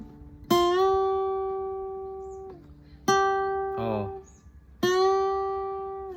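A guitar string fretted on F is bent up a whole tone, heard as three sustained plucked notes, each rising in pitch as the bend takes hold, with a short mumble between the second and third.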